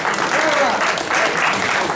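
Loud, sustained applause from a concert audience at a naval-themed music event, with dense clapping that swells in waves throughout.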